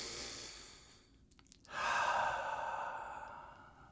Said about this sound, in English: Take a nice cleansing breath.